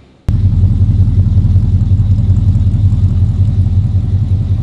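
A car fitted with a Rod Shop HKTG exhaust system idles close by, a loud, steady low rumble with an even burble that starts abruptly and holds without revving.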